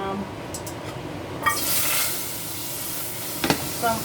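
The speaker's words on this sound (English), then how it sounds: "I'm just gonna add a piece of butter to that, because I'm gonna be sauteing some" A piece of butter sizzles in a heated pan ahead of sautéing onions and chili peppers: a loud hiss surges up partway through and then settles into a steady, close fry, with a couple of sharp utensil clinks near the end.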